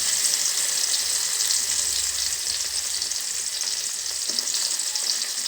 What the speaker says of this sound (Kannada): ಕಾದ ಎಣ್ಣೆಗೆ ನಾನು ಇವಾಗ ಬೆಳ್ಳುಳ್ಳಿಯನ್ನು ಹಾಕ್ಕೊಳ್ತಾ ಇದ್ದೀನಿ